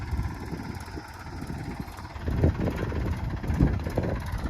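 A tractor engine runs at a low idle with the accelerator barely pressed, a steady rumble that swells slightly partway through, close by and outdoors with no talk over it.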